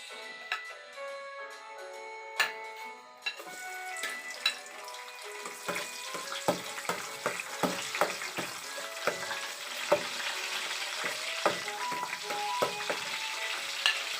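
Garlic sautéing in a pan for a crab dish, a quiet start with clinks and a few pops, then a steady sizzle broken by scraping and stirring taps.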